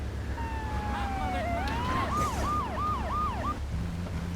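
An ambulance siren in GTA 3 Definitive Edition on PC sweeps upward, then breaks into a rapid repeated wail of about five cycles before cutting off, heard fairly near over a steady rumble of game traffic.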